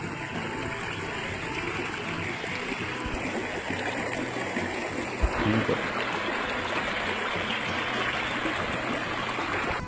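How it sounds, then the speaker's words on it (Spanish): Small stream on a farm property for sale in the Dominican Republic, flowing steadily with a continuous close rushing and trickling wash over the whole stretch, one brief knock partway through. "No es un río tan amplio, tan grande, pero nunca se seca."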